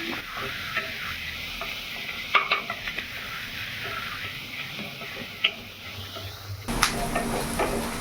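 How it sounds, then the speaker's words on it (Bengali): Chopped onion fries in oil in a pan, a continuous sizzle broken by sharp taps and scrapes of a stirring spoon, close up, growing louder near the end. "এর মধ্যে একটা বড় সাইজের যে পেঁয়াজটা নিয়েছি কুচনো পুরোটা দিয়ে দেবো"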